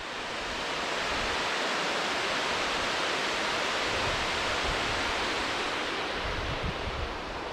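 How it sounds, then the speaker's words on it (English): Heavy water pouring over the Backwater Dam overflow in Scotland, a dense, unbroken roar that stays loud and steady throughout with no voices. "when there's loads of water going over it like this"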